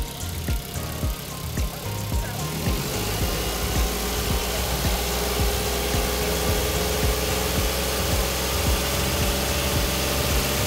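Idling engine of a Suzuki DA17V van with a knock, a close, steady rumble with a rapid, regular ticking pulse that grows louder and stays even throughout.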